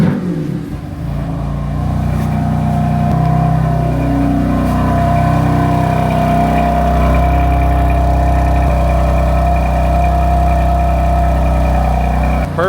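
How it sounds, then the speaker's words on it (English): A BMW M3 engine idles after a cold start, having sat off for about two hours, with a steady low mechanical drone and some rattly harmonics that run continuously and fairly loud throughout. "I'm trying to do a cold start."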